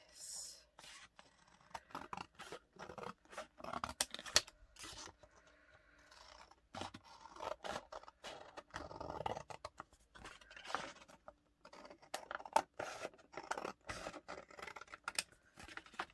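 Scissors cut through card at close range in a quiet room, making faint, irregular snips and papery scraping crunches that continue steadily throughout.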